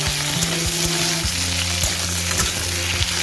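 Taro and potato pieces fry in a pan with a loud, steady sizzle, and spatula strokes scrape through it at an even pace.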